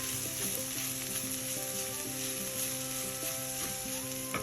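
Ground coconut paste being stirred into cooked red spinach in a hot pan: a soft, continuous sizzle with light scraping from the stirring, quiet and steady, with no voices.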